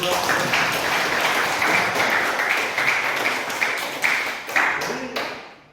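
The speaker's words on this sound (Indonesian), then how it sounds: "Ya, tepuk tangan." A class of students applauds together, a dense, steady burst of hand claps that runs several seconds before thinning out and fading at the end.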